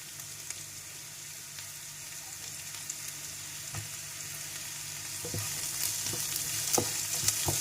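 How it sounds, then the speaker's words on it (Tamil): Sliced carrot and capsicum sauté in a hot pan with a steady, close sizzle, and scattered clicks of stirring rise over the frying hiss. "இப்போ எல்லா காயும் நல்லா வதங்கட்டும்."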